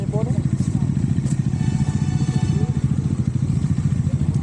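Motorcycle engines idle steadily on a Sunday group ride, a continuous low throbbing rumble with faint clatter, loud and close throughout.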